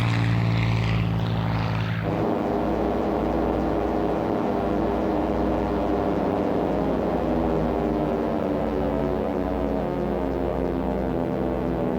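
A Mustang A-36A dive bomber with an Allison engine flies past, its piston engine and propeller giving a loud, continuous droning roar that holds steady for the whole stretch, with a rising whine at the start.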